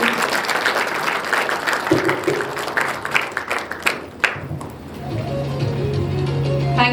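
Applause from the audience at a school investiture ceremony fills the hall with dense, close clapping that thins out after a few seconds, then gives way to a steady low hum.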